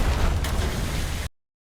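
Naval gunfire in a video game, a loud, close burst of explosive rumble that rolls on for just over a second and then cuts off abruptly.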